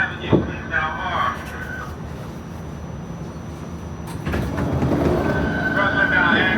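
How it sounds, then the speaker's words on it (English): A New York City subway R train rumbles loudly on the platform with steady roar and a rising whine, and people talk nearby over it. "Oh, there's the R train."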